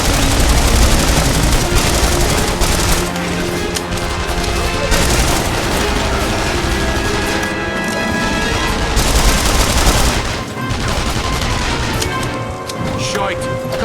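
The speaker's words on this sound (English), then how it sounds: "Gunfire!" Sustained bursts of gunfire in The Saboteur, an ambush by Germans, crackle loudly throughout, dense and overlapping, with brief lulls between volleys and muffled shouting mixed in.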